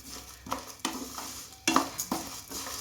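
Tempering for vangi bath frying in a pressure cooker, with bursts of sizzling and the scrape of stirring at an irregular pace, close and moderately loud, no talk.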